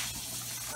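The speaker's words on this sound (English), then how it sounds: "So wash the strawberries." Tap water gushing steadily over strawberries being washed, a brief broadband rush of running water, close and even, with no talking.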